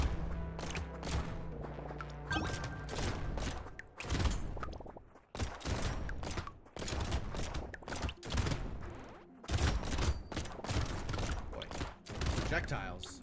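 Rapid, dense gunfire from guns in the video game Brotato, continuous bursts of overlapping shots with brief gaps, loud and close throughout.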